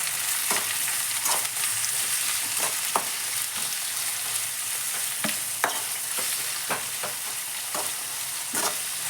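Tomato and green chili fry in a pan with a continuous loud sizzle, broken by repeated sharp scrapes and knocks of a stirring spoon; no voices.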